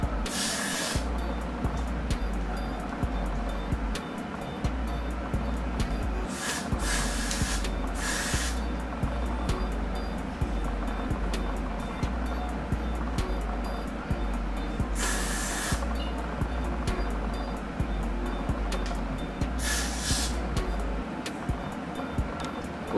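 Got To Be hairspray sprayed onto a bald cap at the hairline: a steady close aerosol hiss running throughout, with short louder bursts standing out, against a constant low background hum.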